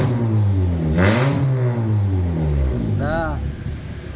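A Honda Brio automatic fitted with an AKS titanium exhaust revs hard, its engine note climbing and falling in loud, close throttle blips, with a voice briefly heard over the engine.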